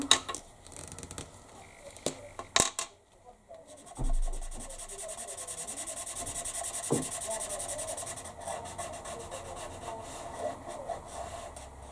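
Rhythmic scratchy rubbing of a pen or pencil shading the black half of a Yin Yang drawing on paper, soft and close, with a few sharp taps and brief pauses between strokes.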